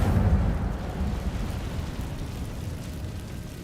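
Incendio fire spell cast in the video game Hogwarts Legacy, a roaring whoosh of flame that bursts out loud at the start and then fades into a lingering rumble.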